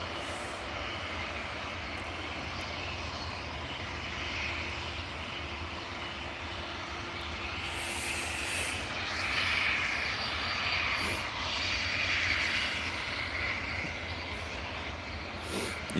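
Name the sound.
ATR turboprop airliner taxiing at Edinburgh Airport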